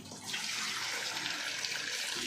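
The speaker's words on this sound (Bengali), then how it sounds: "দেখো কি সুন্দর জল পড়ছে চাপ কল থেকে এখন।" Water pours steadily from a repaired hand pump, a soft, continuous splashing rush that stays fairly faint and unbroken throughout, with no talking.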